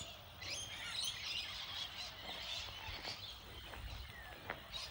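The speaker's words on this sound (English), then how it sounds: "They're all big white parrots." Flock of big white parrots flying over a house, faint distant squawks and chirps against soft outdoor background noise.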